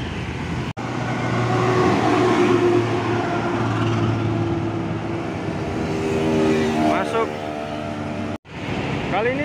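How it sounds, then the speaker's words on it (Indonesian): A Surabaya city bus rolls past on the road toward Terminal Purabaya, a loud, sustained engine rumble and rushing road noise that builds and fades, with a voice talking over it. "kali ini bus Surabaya melintas menuju Terminal Purabaya"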